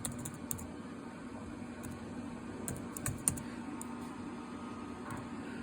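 Keys tap on a computer keyboard in short, uneven clusters of quiet clicks, close but faint over a low steady hum, with no voice.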